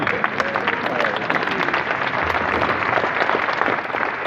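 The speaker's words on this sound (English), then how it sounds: "Everybody get yourself a round of applause for being here, first of all." An audience at a North Carolina governor's announcement event applauds, a steady, dense wash of many hands clapping at once, sustained and fairly loud from start to finish.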